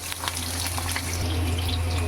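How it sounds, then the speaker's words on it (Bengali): Diced potatoes dropped into hot oil give a steady, close frying hiss over a low background hum. "এবার ওই তেলেই দিয়ে দেবো ডুমো ডুমো কেটে রাখা আলু।"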